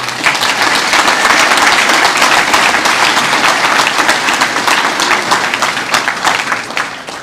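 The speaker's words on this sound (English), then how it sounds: "I think everyone deserves a round of applause for everyone supporting all their friends" An audience at the Harness Racing Hall of Fame ceremony in New York applauds with dense, sustained clapping that swells and then gradually thins out.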